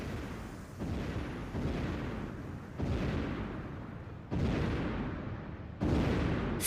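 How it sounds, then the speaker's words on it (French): Repeated explosive blasts burst out during an anime battle in My Hero Academia season 2, each sharp boom landing roughly every second or so before rumbling away, loud and close, with no talking over them. "Il a réussi à creuser un tunnel comme une taupe, mais en envoyant des explosions."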